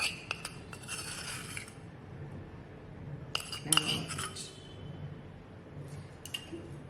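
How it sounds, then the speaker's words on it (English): A spoon clinks against a bowl while curd is added in a home kitchen, a few scattered light taps early on and a brief cluster of clinks midway, otherwise quiet. "we'll take a spoon and I'm going to add in the curd inside"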